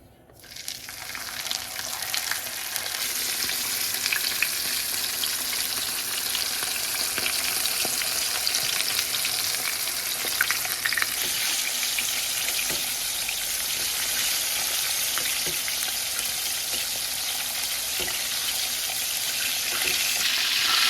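Mojarra fish frying in hot oil in a pan, a dense, steady sizzle and crackle that runs unbroken, close and fairly quiet, with no talking.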